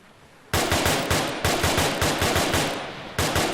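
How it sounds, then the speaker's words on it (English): Loud rapid automatic gunfire in a video game roleplay, three long bursts of evenly spaced shots separated by brief gaps, close and without talk. "Multiple gunshots once again."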